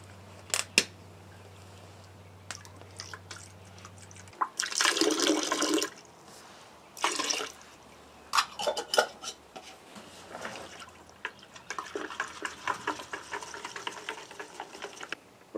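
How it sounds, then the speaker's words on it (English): Glass and plastic chick waterers being scrubbed with a brush in soapy bleach water, with sloshing splashes, clinks of glass and plastic, and bursts of brushing separated by quiet pauses. "We're going to scrub this with the brush inside and out to sanitize it."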